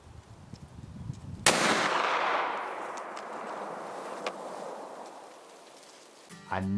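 A single loud rifle shot fires during a late-season deer hunt in Ohio, a sharp crack followed by a long, rolling echo that fades over several seconds outdoors, with faint movement noises at the end.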